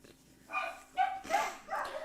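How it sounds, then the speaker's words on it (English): Several dogs bark and yelp in short, separate bursts at a moderate distance during a severe weather event south of Slidell, with quiet gaps between barks and no talk. "And there's my dogs. You can hear them yelling."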